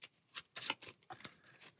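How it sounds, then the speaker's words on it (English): Quiet riffle and snap of Valeria: Card Kingdoms cards being shuffled, a few short papery bursts close by, with no voices. "And shuffle those into that stack."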